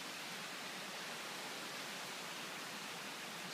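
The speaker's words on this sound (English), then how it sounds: "There's the creek." A flowing creek gives a steady, even wash of rushing water that stays constant throughout, moderately quiet and heard alone with no talk.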